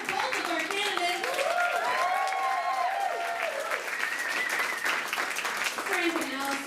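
Sustained applause from an audience at a mock political convention honoring two candidates, a dense steady wash of claps with voices talking and calling over it throughout.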